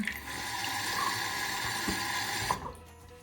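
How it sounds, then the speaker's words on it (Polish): Tap water runs steadily into a sink while someone rinses foam off their face, a continuous close splashing stream that stops abruptly near the end. "Mamy pianę na twarzy i zmywamy znowu pod bieżącą wodą."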